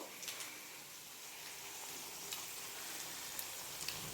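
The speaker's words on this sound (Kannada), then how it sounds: "ಚೆನ್ನಾಗೆ ಡೀಪ್ ಫ್ರೈ ಆಗಲಿ ಚೆನ್ನಾಗೆ ಗೋಲ್ಡನ್ ಬ್ರೌನ್ ಕಲರ್ಗೆ ಟರ್ನ್ ಆಗಿದೆ" Vegetable vada deep frying in hot oil, a steady soft sizzle with faint bubbling pops throughout, close and fairly quiet with no talk.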